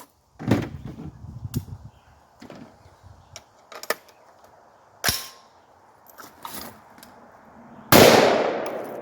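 AR-15 rifle with a broken firing pin and missing gas ring fired outdoors, several sharp loud shots spaced irregularly with a final loud blast near the end.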